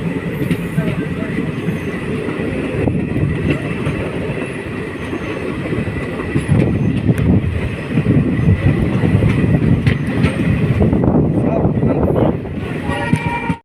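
A moving passenger train rolls along with a loud, continuous rumble and rhythmic clatter of wheels on track, wind buffeting the microphone throughout, growing heavier in the second half.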